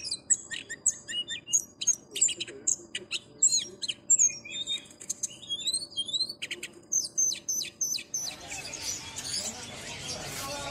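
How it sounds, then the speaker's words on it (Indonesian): A white-throated flycatcher sings in quick varied chirps and trills at the Pramuka bird market in Jakarta, close and busy, while other cage birds join in. Near the end a broad rustling noise takes over. "di sini juga ada burung SKP, sikatan kerongkongan putih"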